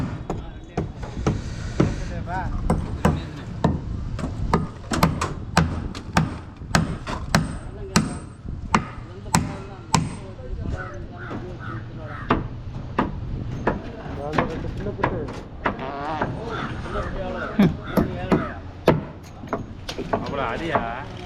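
Hammer blows drive nails into wooden boards during concrete centring work, landing as repeated sharp knocks at an uneven, roughly steady pace under frequent talking from workers nearby.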